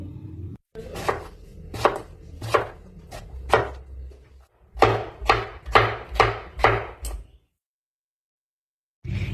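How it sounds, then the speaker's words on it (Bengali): A knife slices papaya into thin pieces on a board, giving a steady series of crisp close chops in two bursts, followed by a stretch of silence. "এখন পেঁপেটাকে কেটে নেব, যতটা সম্ভব পাতলা পাতলা করে কেটে নিতে হবে।"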